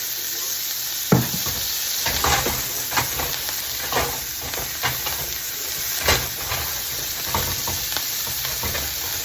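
Pork sizzles in oil in a pan with a steady, bright hiss, broken by a few scraping stir sounds and soft knocks as it is turned.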